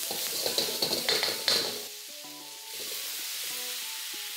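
Pork ribs hitting a hot wok with peppercorns and oyster sauce, a loud close sizzle with scraping stir-fry strokes that settles into a steady fainter hiss under background music.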